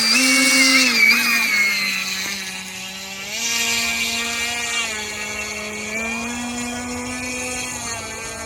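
An RMRC Anaconda radio-controlled plane taxies on the ground, its electric motor giving a steady close whine that rises and falls in pitch with throttle changes.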